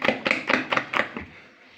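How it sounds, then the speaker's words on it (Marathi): Urad dal batter for medu vada whisked by hand in a bowl, about six brisk rhythmic slapping beats close by, then fading to quiet. "एकसारखा असा हे पीठ फेटून घेणार आहे"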